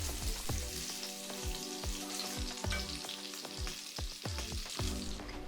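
Pork belly sizzling steadily in a pan as its fat renders, a dense continuous crackle and spatter with small pops, close and alone without talk.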